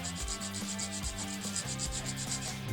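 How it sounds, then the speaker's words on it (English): Whole nutmeg is rasped across a microplane grater while seasoning lobster thermidor, quick rhythmic back-and-forth scrapes up close, about a dozen strokes in under three seconds. "get your microplane or grater"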